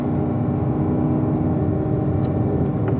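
A Grand Sport car engine holds a steady mid-pitched drone under light throttle on a race track, heard close and continuous throughout with a constant whir and no talking.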